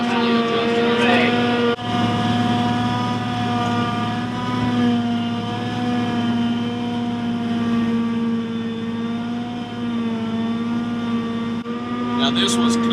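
A forage harvester chopping freshly cut, raked silage in a Southeast field, a loud steady engine drone with a constant mechanical whine that runs throughout, and a voice briefly speaking over it.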